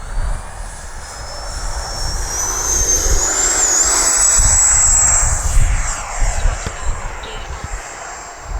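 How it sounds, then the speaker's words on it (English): An FMS F-86 80mm radio-controlled jet with afterburner takes off, its turbine roaring loud and close with a rising whine that swells and then fades slightly as it climbs away. "I do love that afterburner."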